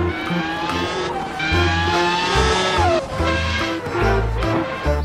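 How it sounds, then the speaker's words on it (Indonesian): A toy Formula race car gives off a loud, continuous electronic engine sound with bright looping tones and a thumping low beat, lasting throughout with no talking. "mobil balap ya teman-teman"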